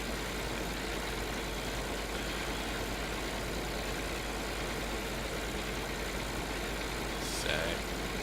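Tractor engine in the Farming Simulator 2013 game running at a steady, even drone throughout, moderately loud and unchanging, with no talking.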